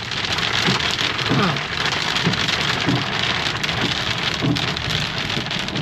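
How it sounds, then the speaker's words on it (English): Heavy rain pounds down steadily at Shingle Street on the coast, with scattered sharp ticks of hailstones striking a surface, loud and close. "Hailstones and rain."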